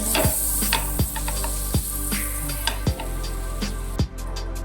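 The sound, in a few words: butter melting and sizzling in a pan for sopas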